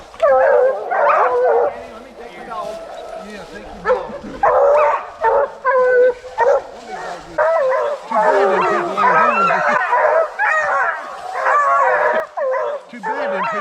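Hunting dogs on a bear hunt yip, whine and bark in quick bursts at close range, an excited chorus that rises and falls in clusters, with people talking in between.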